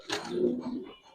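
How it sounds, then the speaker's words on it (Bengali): A raja pigeon coos once in a low, soft, close-up call, followed by a brief sharp click. "এটা রাজা কবুতরি"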